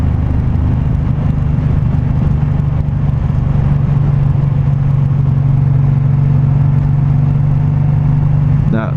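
A 2019 Suzuki M109R cruiser motorcycle rumbles steadily while being ridden, its deep, loud, continuous engine drone close and constant throughout, with wind and road noise mixed in.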